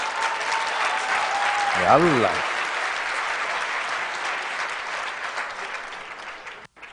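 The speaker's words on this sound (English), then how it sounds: "How can you applaud someone from Hamas?" An audience applauds in a steady, sustained wash of clapping that fades slowly, with a voice briefly speaking over it near the start.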